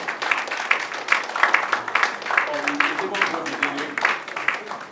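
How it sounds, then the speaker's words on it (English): A crowd applauds with dense, crackling clapping that swells and continues steadily for several seconds, fairly close. "Let's give a round of applause to him."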